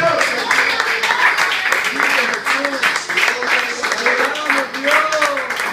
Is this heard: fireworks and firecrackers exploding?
no